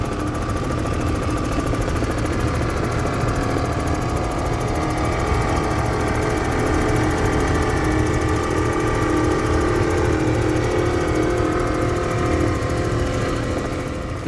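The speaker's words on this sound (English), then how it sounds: "a very unique fountain, one-of-a-kind 2002 38 F1, former race boat, now belongs to Kip Patterson." The engines of a 2002 Fountain 38 F1 former race powerboat running during a powerboat week event, a loud, steady, continuous engine roar that holds without a break throughout.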